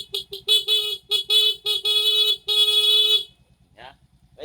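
A Suzuki Raider J FI 115 motorcycle horn honks in a run of short beeps, then several longer sustained blasts, loud and close, with a low idle pulse underneath and a brief voice afterward.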